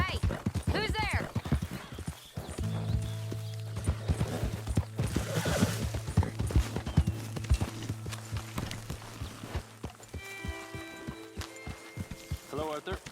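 Horse hooves clip-clop in Red Dead Redemption 2, a rhythmic run of close hoofbeats with a brief whinny, under game music and character dialogue.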